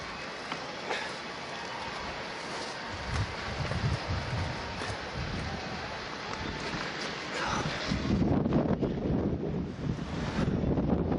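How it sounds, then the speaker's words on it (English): Wind gusting outdoors on a mild night, a steady broadband rush buffeting the microphone that swells louder toward the end. "Getting a bit breezy now"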